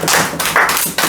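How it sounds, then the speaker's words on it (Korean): A small group of children and adults claps briefly at a church gathering, a short burst of close, uneven hand claps. "일단 박수 한번 쳐주죠"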